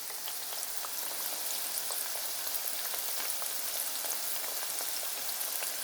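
Center cut pork chops frying in a pan give a steady, close hiss of sizzling fat with dense crackles and pops throughout, and no talking.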